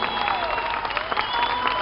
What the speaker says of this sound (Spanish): aplauso para sus niños